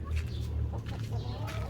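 Chickens cluck close by in a garden yard, a few short, soft clucks over a low, steady background rumble.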